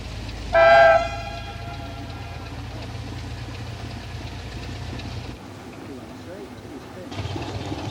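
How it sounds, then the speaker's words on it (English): A train horn sounds briefly near the start, then a railbus engine rumbles steadily as it passes along a branch line before fading off. "The rail bus having cleared the line"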